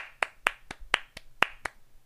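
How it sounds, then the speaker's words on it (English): Six sharp hand claps in a fairly even rhythm, close and dry, alone with no talking. "I have to give that year some claps"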